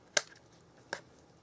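Card being cut at the corner during papercraft, two crisp, close snips about three quarters of a second apart in a quiet room.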